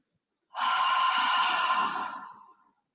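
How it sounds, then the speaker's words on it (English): A long, steady exhale through the mouth during pranayama breathing, close and breathy, lasting about two seconds before fading out alone. "Inhale through the nose. Exhale through the mouth."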